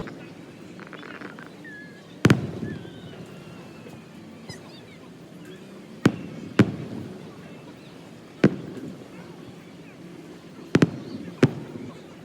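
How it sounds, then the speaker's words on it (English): Distant fireworks at Disney's Polynesian Resort burst in sharp, scattered booms, about six over several seconds, against a low rumble of wind and water with faint voices in between. "we are going to see if we can catch the fireworks"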